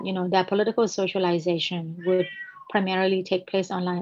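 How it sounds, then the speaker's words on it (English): A cat meows repeatedly at a locked door, wanting to be let in, faintly in the background beneath a person speaking steadily in the foreground. "That's my cat in the background."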